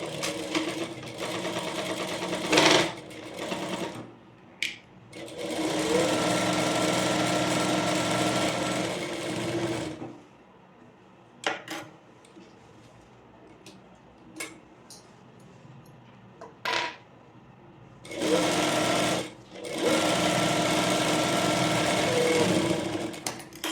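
A sewing machine stitches a layered frill frock, with close, steady whirring runs of rapid needle ticking in several long bursts, separated by quiet gaps with a few isolated clicks and no talking.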